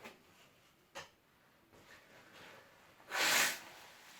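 Hay fever sniffling and sneezing: a few faint sniffs early, then one loud burst of a sneeze near the end, with no talking.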